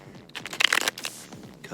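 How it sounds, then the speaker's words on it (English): Tarot cards being shuffled on a leg, giving a quick, close burst of papery riffling and flicking that peaks midway and then trails off into lighter rustles. "So let's do some cards here. I'll shuffle on my leg."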